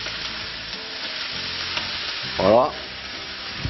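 Vegetables sweating in a pan for a rooster civet, a soft steady sizzle close by with a brief stirring scrape midway, and a single short spoken word.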